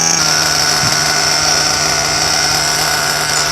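A small nitro engine in an HSP Lacerea 94763 1/8 scale RC car runs with a high, buzzing whine, loud and close, holding steady throughout.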